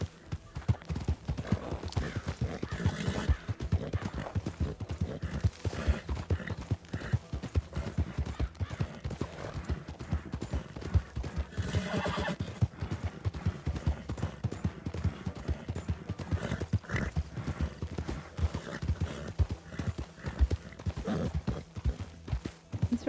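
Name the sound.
horses trotting in a video game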